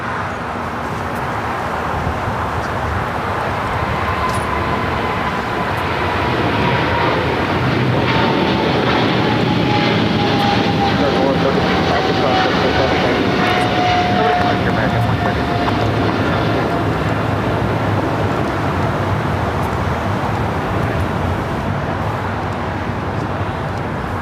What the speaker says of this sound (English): we got that American 777 at 300 ER, now rolling down to 25 right